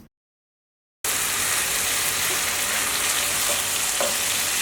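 Spice paste for achari begun, a tangy eggplant curry, is sautéed in oil, a loud, continuous close sizzle with light stirring scrapes, bursting in suddenly after a second of silence.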